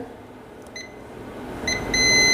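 A multimeter gives short high continuity beeps while probing ground on a Samsung M11 phone board, a few brief tones followed by a sustained beep over faint room noise.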